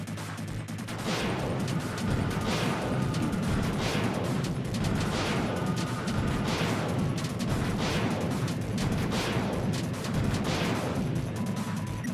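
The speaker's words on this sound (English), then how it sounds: "Annoying fireworks." Fourth of July fireworks going off outside, a dense run of sharp cracks and booms, roughly one burst every second, loud and continuous with no talk.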